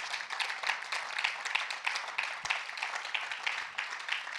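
A church congregation claps and applauds in praise, a steady, fairly soft patter of many hands continuing throughout without pause.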